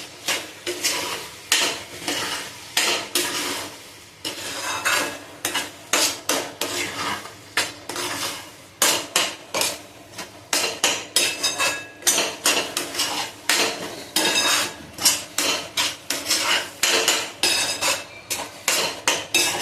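A spatula scrapes and clatters rhythmically against a pan as spicy egg bhurji is stirred. The knocks come in quick irregular bursts, loud and close, with no voices.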